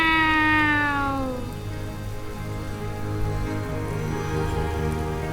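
A cat gives a single drawn-out, falling meow up close, over a steady patter of rain that keeps going after the call fades.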